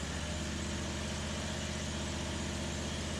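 A firewood processor's engine runs steadily, turning the PTO shaft off the engine. It gives a constant, even mechanical drone with no change in pace and no voices.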